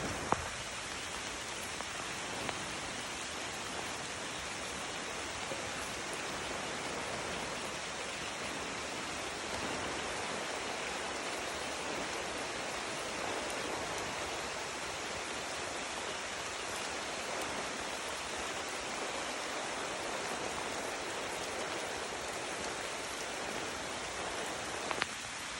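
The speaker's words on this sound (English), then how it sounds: "Heavy rain." Heavy rain pours on Samal Island, a dense, even hiss of drops on surfaces that stays loud and unbroken throughout, with no voices.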